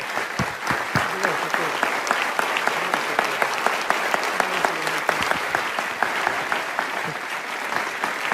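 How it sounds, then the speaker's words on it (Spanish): A church audience gives sustained, dense applause welcoming pastor Eduardo Sosa at a sermon, steady clapping from a large crowd with a voice faintly underneath. "Ponete de pie que te queremos saludar con un aplauso grandioso"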